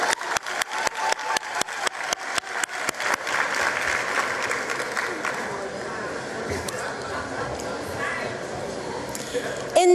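Applause for KwaZulu-Natal at the 2023 matric results announcement: crisp, separate claps at the start swell into a steady wash of crowd clapping that holds to the end, with murmuring voices underneath.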